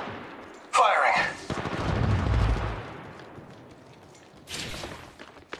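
Gunfire in the shooter game Apex Legends: a loud burst of shots, then a rumbling boom, then another sharp burst, with game voice lines in between.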